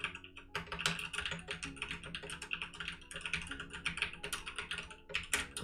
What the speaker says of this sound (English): I'm just typing, guys, I'm just typing stuff.